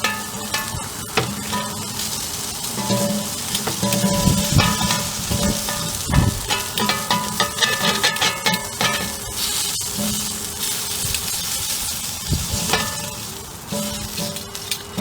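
Chuck roast and a few salami slices searing on a grill, a loud, steady sizzle with crackling pops and occasional clanks, heard alone without talk.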